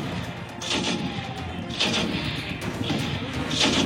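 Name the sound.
explosions and shelling at the Line of Control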